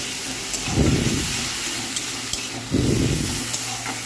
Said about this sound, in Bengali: কাঁচা লঙ্কা পেস্ট 2 চামচ দিয়ে দিলাম। দিয়ে ভালোভাবে নেড়ে দিচ্ছি